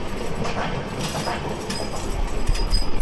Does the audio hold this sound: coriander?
no